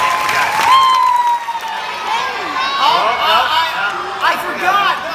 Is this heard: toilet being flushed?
no